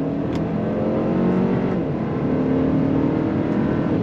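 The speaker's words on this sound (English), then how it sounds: "very fast, very quick, very competent shifts from the Sonata N-Line, the 8-speed transmission in this vehicle" A 2024 Hyundai Sonata N-Line sedan with an 8-speed transmission accelerates hard, its engine droning steadily from inside the cabin as it climbs through quick gear shifts, with no talking.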